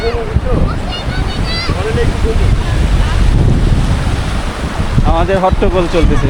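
Wind rumbles against the microphone over the wash of surf on a beach at Cox's Bazar, while several people chatter and laugh nearby.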